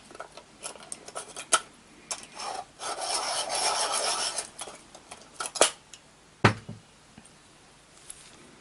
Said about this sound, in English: Sharpen up this one.